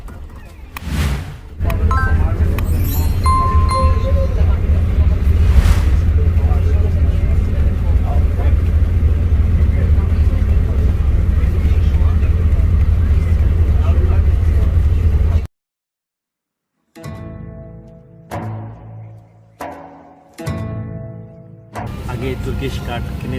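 An airport bus at Henri Coandă airport in Bucharest carries passengers out to the plane. Its engine gives a steady, loud low rumble for about fifteen seconds, then cuts off abruptly, followed by a few bursts of sound.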